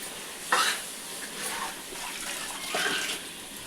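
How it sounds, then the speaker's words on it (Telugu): Chili powder frying in a pan for chicken curry, a continuous soft sizzle with scraping stirs and a couple of brief louder spatters. "ఇది మంచిగా ఫ్రై కానివ్వాలి"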